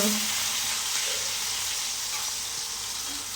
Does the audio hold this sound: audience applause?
no